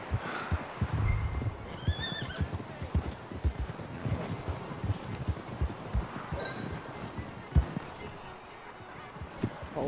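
Horse in a snowy video game scene snorting and whinnying while hooves clip-clop in an irregular walking rhythm, close and moderately loud amid rustling, with brief talk.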